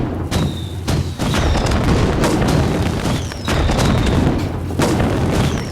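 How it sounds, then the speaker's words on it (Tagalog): Fireworks burst in a rapid series of loud booms and crackles, with whistling launches rising between the blasts and several explosions overlapping. "Panoorin niyo yung fireworks."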